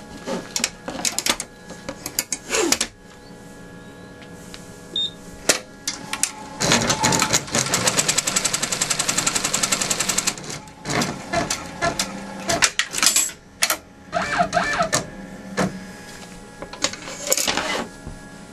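A sewing machine stitches a crazy quilt block seam in several short bursts of fast, close mechanical clatter, with pauses and handling clicks between runs.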